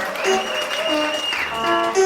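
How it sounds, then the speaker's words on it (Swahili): Church congregation clapping and cheering for Jesus at a Word of Faith service in Buyofu, a steady wash of applause lasting about two seconds with tonal voices and music sustained over it. "Tupikie Yesu makofi"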